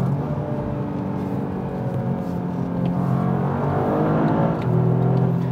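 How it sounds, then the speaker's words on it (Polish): Toyota GR Yaris engine hums steadily with a whirring turbocharger tone, the pitch slowly rising as it revs, then a soft huff near the end, with no talking. "To sapanie turbosprężarki. To jest delikatny świst i takie sapanie."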